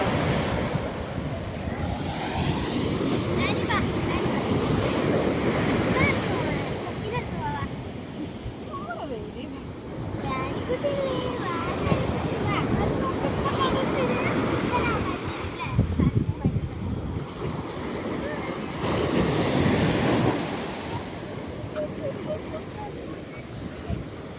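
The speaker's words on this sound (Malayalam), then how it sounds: "കടലിൽ ഇതാ കുറച്ച് നല്ല ഇളക്കുണ്ട്" Rough sea waves roll and crash on a beach in a continuous loud surge with heavy wind buffeting the microphone, while people talk underneath.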